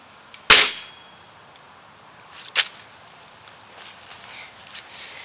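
Pellet gun shots while zeroing a scope outdoors on grass: one sharp, loud crack near the start, then a second fainter snap a couple of seconds later, with quiet outdoor background between.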